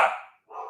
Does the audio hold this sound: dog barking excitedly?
yes